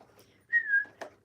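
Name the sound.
person whistling a tune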